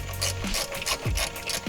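A socket wrench cracking loose 10mm bolts on a Nissan G35/350Z while an oil catch can is being installed, with three sharp ratcheting clicks and creaks in a steady rhythm, close and alone.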